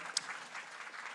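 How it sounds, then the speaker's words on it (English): A short burst of audience applause for competition participants at a data conference presentation session, even and moderately loud throughout with one sharp clap standing out near the start. "very big round of applause for our participants"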